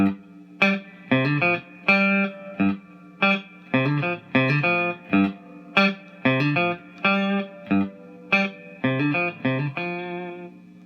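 Electric guitar picking a repeating riff, short plucked notes in a steady rhythmic pattern, clear and close with no talking.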